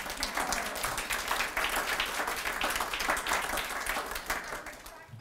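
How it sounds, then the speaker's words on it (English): An awards-ceremony audience claps steadily, a full, continuous patter of many hands at moderate loudness with no break across the span. "some clapping would be appropriate right now for her"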